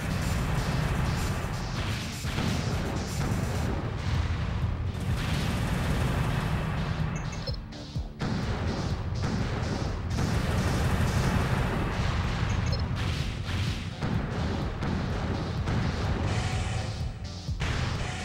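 Dense, sustained barrage of missile explosions in Armored Core: Nine Breaker, booming and crashing continuously and loud with heavy low rumble, briefly dipping midway before the blasts resume.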